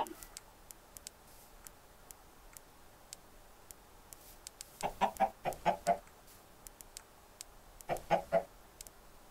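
Chickens clucking in Minecraft, two short bursts of rapid clucks in the second half, fairly close, over a quiet, faintly ticking background.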